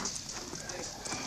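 Cavalry horses clip-clop at a frontier army fort as a patrol is dismissed and sent to the stable, with a quick, steady patter of hooves under a voice giving orders.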